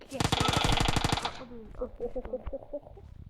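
Video game gunfire, likely from an M24 rifle among others: a loud, rapid burst of shots up front, then scattered quieter pops and clicks.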